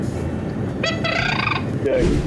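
A hunting call blown into the microphone during a waterfowl podcast, giving a raspy, rolling, gobble-like trill in a few bursts over a steady background of room noise, loud and close.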